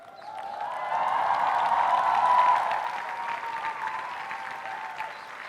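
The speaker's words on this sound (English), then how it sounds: "stand up, turn around, and cheer all those who've made this day possible for you" Graduation convocation audience at NID Ahmedabad breaking into sustained applause and cheering, a dense wash of clapping that swells, peaks and then eases slightly while continuing.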